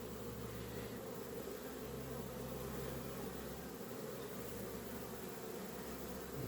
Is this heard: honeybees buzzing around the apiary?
yes